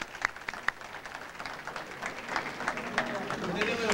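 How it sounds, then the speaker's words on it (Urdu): Scattered hand claps from an audience welcome guests at an Urdu mushaira poetry gathering in Detroit, Michigan. The claps are sparse and moderately loud, heard under a room murmur. "اگر انہیں تالیوں سے استقبال کر دیا جائے"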